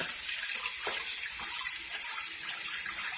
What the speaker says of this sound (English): So the more times you wash it, the better.